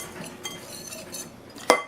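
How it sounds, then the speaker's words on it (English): A whisk stirs sugar, salt and baking powder into flour in a bowl for crumble-top blueberry muffins, giving soft, scattered metallic ticks and light scraping, ending with one sharper clink against the bowl. "And I like to just whisk it around a little bit."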